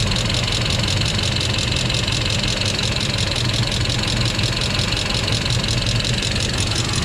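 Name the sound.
Mercedes-Benz W140 transmission noise while engine runs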